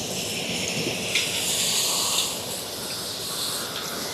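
Potato slices for quick crispy homemade chips hit hot oil with a steady, close, broadband sizzling hiss that swells briefly partway through and holds evenly to the end, with no voices.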